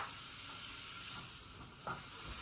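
Butter sizzles in a pan of cooking mushrooms, a close, steady hissing crackle that holds for a couple of seconds with a slight dip near the end and no speech.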